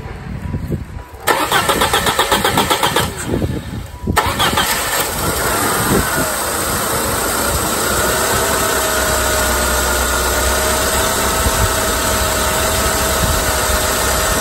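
A 1999 Saturn SC1 with a single-overhead-cam engine cranks and catches, then settles into a steady, close idle that drones on under faint background noise.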